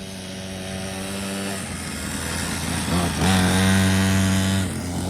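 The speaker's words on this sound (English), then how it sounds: "Uriah's on a little dirt bike I bought off of Amazon, a little 49cc weed eater motor. So he's ripping it around." A small Amazon-bought dirt bike with a 49cc weed-eater engine buzzes at a high pitch while being ridden around a dirt track, close and steady, its revs climbing sharply and briefly near the end.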